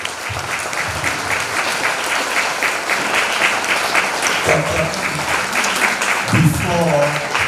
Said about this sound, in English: Please give a big round of applause again